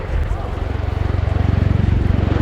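A USAF CV-22B Osprey tiltrotor flies past during an air display as its rotors tilt forward, producing a loud, steady, throbbing rotor beat that grows more rhythmic and pulsing, with a commentator talking over it.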